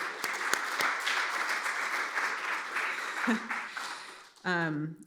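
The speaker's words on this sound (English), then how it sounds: "we want to give a round of applause to Rebecca" Audience applause at a climate symposium session, sustained clapping from the room at moderate volume for about four seconds, then dying away as a voice starts speaking.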